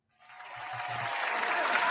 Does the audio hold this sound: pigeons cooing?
no